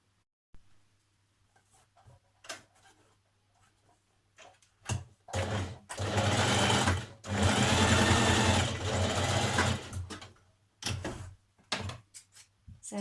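A sewing machine stitches a folded dress neckband in short starts, then runs in a sustained whirring burst of several seconds before slowing to a few brief pulses. Close and clear, with no talking.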